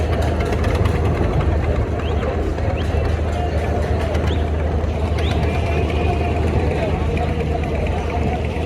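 A steady, loud low engine rumble from a trawler boat on the river at the crowded Barisal launch ghat runs throughout, under constant crowd babble and talk.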